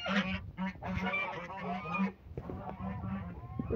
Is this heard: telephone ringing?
no